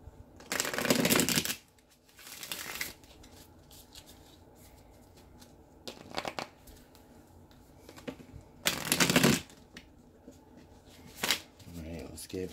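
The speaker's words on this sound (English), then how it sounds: "let's get one more good shuffle for Scorpio" Tarot cards being shuffled by hand in several bursts, crisp riffling and rustling close to the listener, with quieter gaps between and a voice talking at times.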